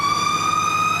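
A Fresno County fire engine, Engine 3, pulls out on a call with its siren wailing in a loud, steady, close tone that barely shifts in pitch throughout.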